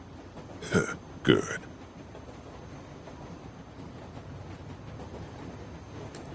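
A train rolls along the tracks in The Walking Dead video game, a steady low rumble running throughout, with two brief louder bursts near the start and a short spoken word.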